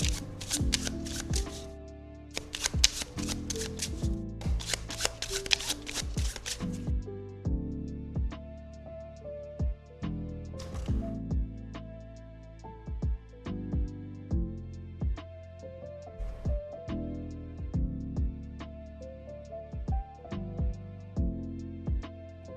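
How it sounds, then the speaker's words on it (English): A deck of playing cards is shuffled during a tabletop card game setup, with crisp riffling bursts early on followed by a long run of softer card taps and handling sounds, close and clear with no talking. "So for 1 player, we'll shuffle the deck."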